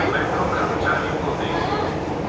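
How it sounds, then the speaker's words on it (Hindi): Steady rumble of a metro train ride with a family aboard, a continuous broadband roar of wheels and car noise throughout, with faint voices mixed into the din. "हम लोग मेट्रो से जा रहे हैं"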